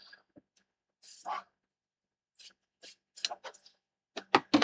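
Scissors snipping through a fabric strip for a handmade alphabet cushion, a few short, crisp cuts close by, with quiet gaps between the snips.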